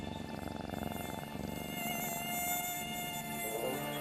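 A steady, high-pitched mosquito whine drones continuously for about four seconds as a sound effect in a Ukrainian folk tale reading, set at the moment a mosquito bites a boar's tail.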